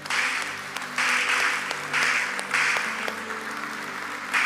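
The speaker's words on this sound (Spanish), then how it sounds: "Un aplauso al Señor." Church congregation applauds after a Spanish worship song, a steady, fairly loud roar of many clapping hands that swells in waves with a faint musical drone underneath.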